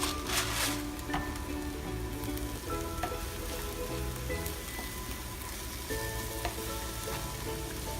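Leeks with salt sizzle and fry steadily in a pan while slowly caramelizing, a close, continuous crackle with occasional stirring scrapes and no talking.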